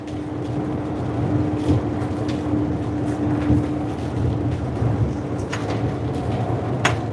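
Rain drums on a lorry hauling 24 tons of potatoes from Scotland toward Newcastle, a steady dense patter over the low drone of the truck on the road, with no talking.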